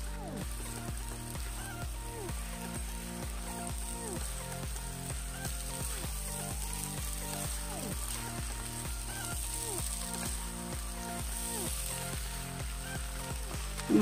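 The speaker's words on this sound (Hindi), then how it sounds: "4 से 5 मिनट मटन को इसी तरह भूनेंगे।" Mutton with mashed masala frying in a pan over medium flame, a steady dense sizzle running throughout at even loudness, with rhythmic low thumps from stirring or background beats underneath.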